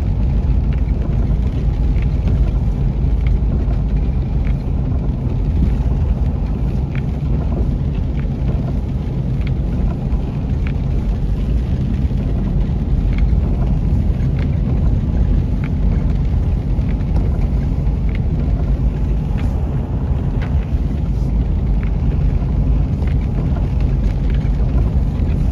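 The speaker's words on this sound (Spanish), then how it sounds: "Y pues ha estado lloviendo así por ratitos." Rain falling and runoff water flowing through the streets of Nogales toward a covered arroyo channel, a continuous low, heavy wash of noise that stays constant throughout.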